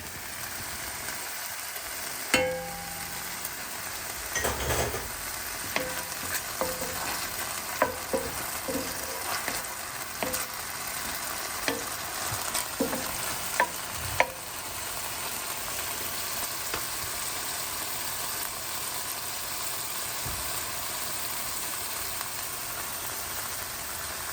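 A heaping tablespoon of chopped garlic sizzles in a hot pan, the steady frying hiss broken by repeated scraping and clacking of a utensil as it is kept moving, close and clear with no voices.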